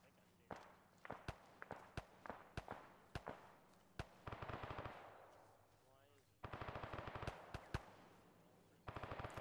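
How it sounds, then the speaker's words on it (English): Military video game gunfire rings out as quick rattling bursts of sharp shots, some single cracks and some rapid strings, fairly faint and distant, with brief voices in between. "I think they're shooting at something."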